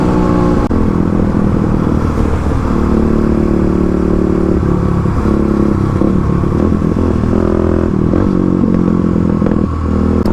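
Stage 3 Kawasaki KLX351 dirt bike at about 35 horsepower, heard on a ride with a continuous close engine drone that rises and falls with throttle changes, along with some clattering and wind noise.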